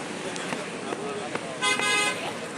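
A passing car on the road gives a short horn toot over steady traffic noise, near and fairly loud, with people talking around it.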